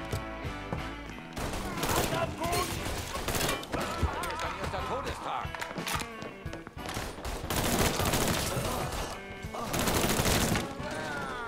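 Dense bursts of gunfire from a weapon in Mafia 3, crowded rapid shots in clusters that swell and fade over the span, loud and close, mixed with game noise.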